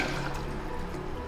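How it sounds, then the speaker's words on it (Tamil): Tamarind water poured into a pot of sambar with cooked drumsticks, a steady liquid pour and splash heard up close, unbroken for the whole short moment with no talk. "ஸோ இதில் வந்து புளி தண்ணி விட்டுடலாம்"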